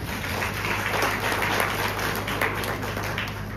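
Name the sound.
audience applause at a talk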